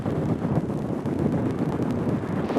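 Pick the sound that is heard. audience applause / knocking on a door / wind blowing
wind blowing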